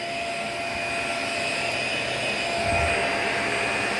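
Steady, loud whirring drone of a vacuum cleaner running over carpet and picking up dirt, a continuous motor hum with a slight surge near the end and no speech.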